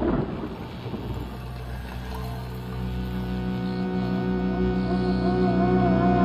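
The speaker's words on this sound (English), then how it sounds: "Clap of thunder." A thunder clap sound effect: a loud initial crack that rolls into a long, sustained rumbling boom, heard alone.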